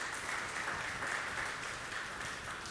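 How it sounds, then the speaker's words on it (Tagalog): Church congregation applauding during a Sunday worship service, a steady dense wash of clapping that holds at even loudness throughout with no break. "Palakpak muli sa Panginoon"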